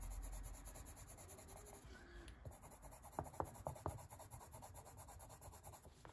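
Coloured pencil burnishing on paper under hard pressure while finishing a colouring page, a faint, steady scratchy rubbing with a few sharper strokes partway through, close up and with no voices.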